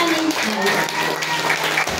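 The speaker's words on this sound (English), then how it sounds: "Can you give a hand and clap to your sovereign" A church congregation claps their hands together, a dense, steady patter of applause with voices mixed in, sustained and fairly loud throughout.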